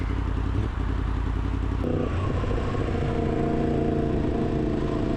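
Yamaha MT-10 motorcycle being ridden, a steady low engine rumble with a brief shift in tone partway through, loud and continuous, heard from the rider's position with no talk.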